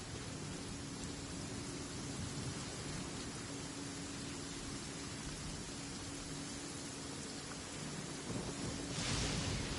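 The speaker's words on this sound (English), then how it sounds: "Many people dread the sound of thunder." Steady heavy rain pours down in a constant hiss, with a low rumble of thunder rolling underneath.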